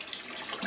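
Soft, steady rush of water pouring into a 150-gallon horse tank on a rainy day, a faint continuous gush with no voices.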